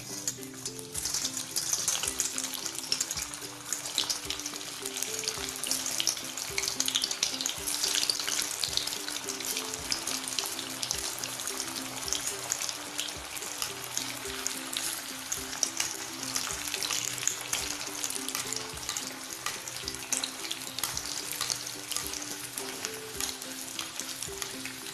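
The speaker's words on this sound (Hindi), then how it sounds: "यहाँ पे ऑयल गर्म हो चुका है, अब हम इसे डीप फ्राई कर लेंगे।" Bread and vegetable balls for Manchurian deep frying in hot oil, a dense, steady bubbling sizzle with crackling pops, close and continuous for the whole stretch, with no talking.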